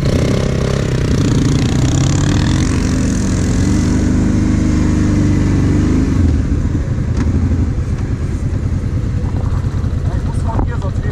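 Several Kymco Maxxer quads (250 and 300 Wide) in a sand pit, their engines droning and revving loudly and close, then settling to a lower idle, with people talking throughout.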